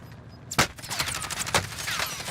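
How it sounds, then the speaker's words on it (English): Gunfire in the video game Call of Duty Warzone: a loud sharp shot, then a dense stretch of rapid overlapping gunshots with another strong blast about a second later. "Someone just shot at me from behind."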